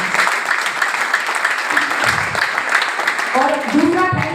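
An audience claps at a gathering, a dense steady patter of many hands filling the room, with a voice speaking over it near the end.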